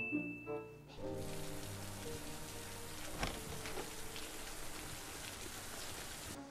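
Steady rain falls in a dark, rainy outdoor scene from the film IT, a dense continuous hiss of drops on surfaces that starts abruptly after a quiet tonal moment and keeps up loud and even throughout.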